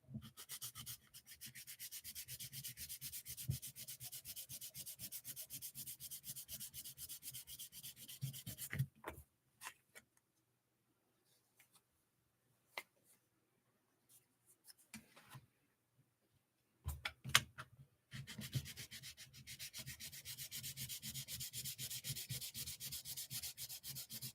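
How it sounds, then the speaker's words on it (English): Rapid back-and-forth sanding strokes rasp steadily, stop for a long quiet stretch with a few scattered knocks, then resume at the same brisk rhythm. "There we go again, sanding and Nick's not here."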